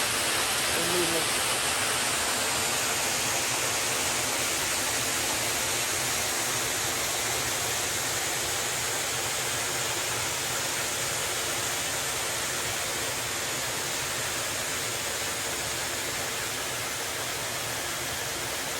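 A waterfall roars with a steady, dense rush of falling water, loud and unbroken for the whole stretch, with a constant hiss and no clear pauses or other distinct sounds.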